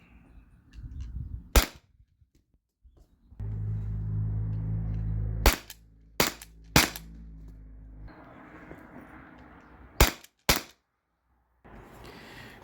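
Sharp shots from a T4E HDP50 pistol firing nylon rounds at a target, about seven distinct cracks spaced irregularly, some in quick pairs, with quiet handling noise and low rumble in between.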